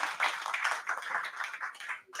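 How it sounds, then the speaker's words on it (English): Audience clapping for panelists at a Women in Business and Technology chapter launch in Brighton, a brisk round of applause that cuts off sharply near the end. "If you, the panelists, give them a round of applause while they take their seat"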